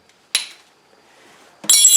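An old steel chisel from a pneumatic air hammer strikes a piece of flint twice, each blow a sharp, bright clink close by. The second strike rings on longer.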